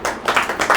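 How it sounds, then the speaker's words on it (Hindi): A congregation at a Hindi church service claps together in thanks, a few loud, close bursts of hand claps in quick succession. "प्रभु का हम ताली बजा के जोर से धन्यवाद देंगे।"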